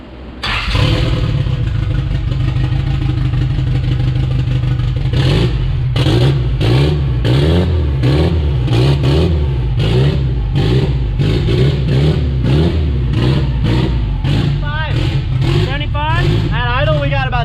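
A car engine just fired up after clutch trouble, running a little rich and revving hard in loud, continuous bursts close by, with people talking over it throughout.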